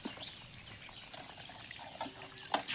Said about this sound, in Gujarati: તો એકણ વાસણ ઘસાઈશું